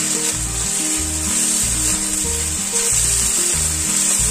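Prawns fry in a pan with a constant bright, hissing sizzle, loud and close, while music plays steadily underneath.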